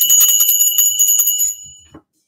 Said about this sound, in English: Bells to that.